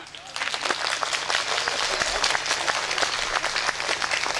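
Audience applause at a Hindi comic poetry recital, dense continuous clapping from a large crowd with some individual sharp claps standing out, steady and moderately loud throughout.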